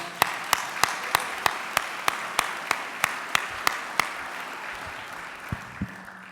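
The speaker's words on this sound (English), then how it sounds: "that deserves a round of applause." Rhythmic clapping at a fraternity leadership conference: sharp, evenly spaced claps in unison, about three per second, that loosen and fade into a few stray claps at the end.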